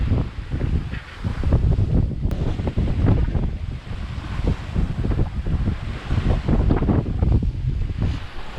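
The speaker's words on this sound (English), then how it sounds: "you just hear the wind and the waves" Wind and waves rush steadily around a sailboat running close-hauled at night in sporty conditions, a broad continuous roar of gusts and breaking water with no voices.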